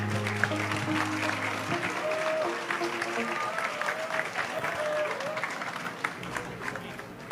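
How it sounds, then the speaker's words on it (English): A crowd applauds at a contract signing ceremony for a north-south commuter railway project, with continuous clapping and some background voices and music tones near the start. "A round of applause, please."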